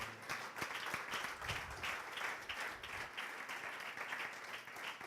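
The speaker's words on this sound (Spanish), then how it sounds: "Dale un fuerte aplauso al Señor" A church congregation applauding through a Spanish-language service on Paul's ministry, a steady wash of clapping held at a moderate distance with no voices over it.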